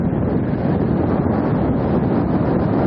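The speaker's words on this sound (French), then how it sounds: "il y a du vent, alors on peut pas se mettre sur la plage à cause du sable" Strong wind buffets the microphone on a sandy beach, a loud, constant low roar with no breaks for the full few seconds.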